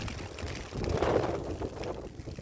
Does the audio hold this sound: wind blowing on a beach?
yes